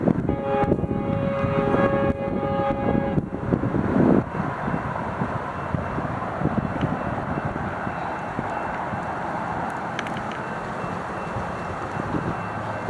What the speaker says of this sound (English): Our next train would be another Metrolink, this time 1752, heading to South Paris, with F125 908 leading.